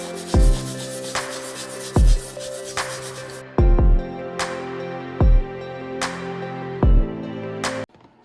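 Rhinestones glued with Krystal Glaze onto a stainless steel tumbler are scrubbed in short repeated bursts, about six strokes at steady intervals, each starting with a sharp knock and trailing into a ringing metallic tone, close and loud with no speech.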